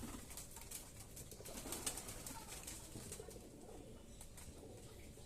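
Pigeons coo on a small pigeon farm on a home veranda in Bangladesh, soft and fairly close over a steady murmur of background noise, with no talking.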